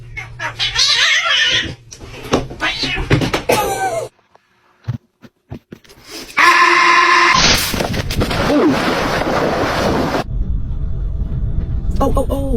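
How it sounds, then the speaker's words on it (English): Several kittens meow in short high-pitched bursts, mixed with people's voices, bumps and a loud rumbling stretch of household noise. "All the kittens!"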